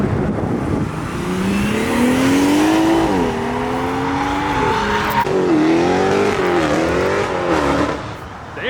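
A Dodge Hellcat car does a burnout leaving a car meet, its engine revving and rising in pitch with squealing tires, loud and sustained with rev swings throughout.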